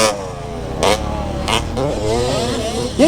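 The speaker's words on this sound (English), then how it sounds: "That kid has had that bike on the rev limiter all day long." Dirt bike engine revving hard on a motocross track, a buzzy, rising and falling rasp near the rev limiter, mid-distance and fairly loud, with brief surging bursts of throttle over other engine noise.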